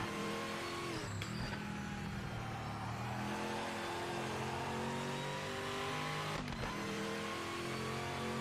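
Race car engine in the video game Project Motor Racing (GT Icons pack, PS5), a fairly subdued engine note droning steadily throughout, with two quick gear shifts breaking the pitch before it climbs again.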